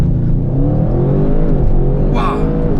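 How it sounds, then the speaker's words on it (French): An Audi RS sports car launches hard under launch control, its engine note a loud, steady roar that climbs gradually in pitch through nearly three seconds of close acceleration, with no voices over it. "on teste le launch control qui annonce un 0 à 100 en 3 secondes 6"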